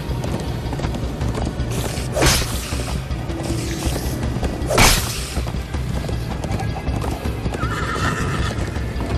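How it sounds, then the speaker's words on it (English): Hooves clop steadily as a horse runs in the video game Minecraft: Story Mode, with two loud whooshing bursts and a brief whinny over the galloping rhythm. "First time on a horse here."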